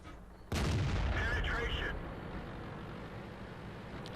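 A single loud, sharp tank cannon blast from an M26 Pershing in World of Tanks on the Cliff map, booming up suddenly and leaving a long, rumbling tail that fades slowly.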